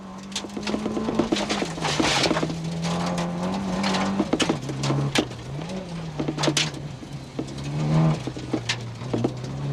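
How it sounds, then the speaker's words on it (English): A Toyota Celica rally car's engine revs hard at speed on the 1994 Ulster Rally, pitch rising and dropping through gear changes, with gravel clatter and sharp pops over the steady drone. "we hitch a lift with Brendan Creeley in the Toyota Castrol Celica."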